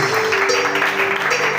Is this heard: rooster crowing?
no